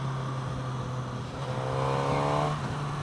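A 2016 Suzuki GSX-S1000 ABS motorcycle engine hums steadily, then its pitch rises briefly as it revs, the intake and exhaust blending into one smooth drone, no talking.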